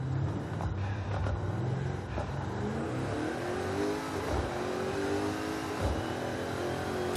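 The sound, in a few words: GMC Syclone truck engine revving, Forza Horizon 5 video game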